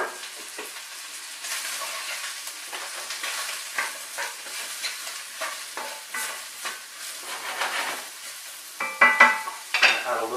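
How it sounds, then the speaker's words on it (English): Mushrooms sizzle and crackle in a hot pan while a utensil stirs them with irregular scraping strokes. The sound is close and moderately quiet, with sharper bursts near the end and no talking. "So now we're going to add our mushrooms to a nice hot pan."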